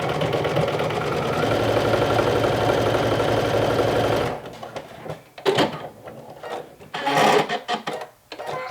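Sewing machine running steadily with heavy Unicorn Mane Tex 45 and Tex 80 thread, a loud continuous whir for about four seconds, then stopping into short handling clatters and rustles.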